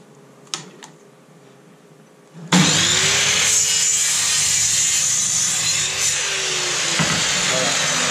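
A few quiet clicks, then a power saw bites into wood for a door, cutting steadily with a loud, close, continuous whine and rasp.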